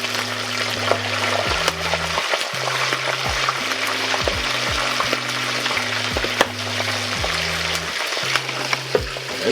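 Chicken pieces fry in hot oil with a loud, continuous sizzle and crackle, scattered sharp pops breaking through over a steady low hum.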